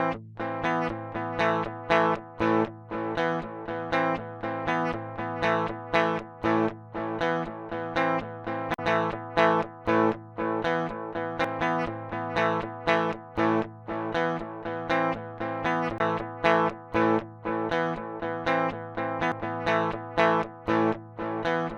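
Distorted electric guitar played through the second signal path of a Line 6 Helix, a steady chugging riff of rhythmic chords that is loud and continuous with no talking.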